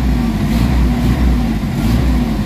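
A Mitsubishi Adventure engine with weak pull and low power, revved around 1,000–1,200 RPM. It gives a loud, steady, close mechanical drone with no voices.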